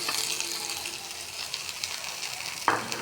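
Chicken and potatoes sautéing with spices in a pan, a steady close sizzle with light stirring scrapes and a sharp clink near the end.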